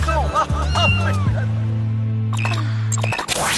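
A cartoon kitten meows several times in quick succession near the start, followed by a long low hum and scattered clatter, with French voices mixed in.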